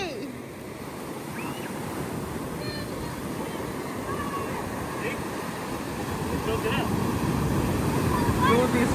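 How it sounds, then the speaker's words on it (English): Ocean surf crashes onto a beach during a family outing, a loud, continuous roar with rushing wash and gusts of wind buffeting the microphone. "these fucking waves are insane"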